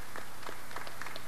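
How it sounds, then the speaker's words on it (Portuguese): An audience at a ceremony honoring Petrobras' 60th anniversary applauds in a steady patter of clapping that continues throughout the short stretch. "E o brigadeiro Rui Moreira Lima, a quem eu também peço com muita justiça também um aplauso muito grande,"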